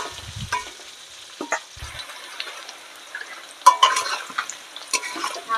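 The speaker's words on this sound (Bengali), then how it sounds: "এবারে আলুটা আমি ভালো করে ভেজে নেব।" Boiled potatoes fry in a pan with cumin and dried chili in a village kitchen, a faint sizzle broken by clinks and scrapes of a spatula against the pan, louder stirring knocks near the end.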